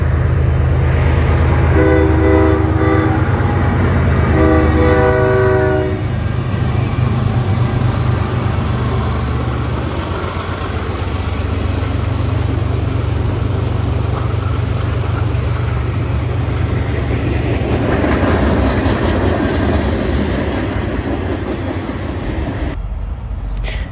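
A CN freight train led by two ES44DC locomotives sounds its horn in two loud, long blasts near the start, then rumbles past close by with steady heavy rolling noise of railcars.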